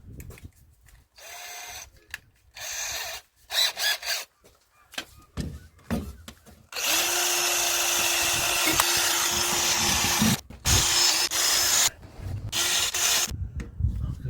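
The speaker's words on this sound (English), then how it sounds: "I'm going to change this wire wheel, see if I can get something that's a bit more accessible in there." A drill spinning a wire wheel scrubs Rover P6 engine parts in bursts, a harsh abrasive whirr that starts and stops several times before running steadily for long stretches, loud and close with no talking.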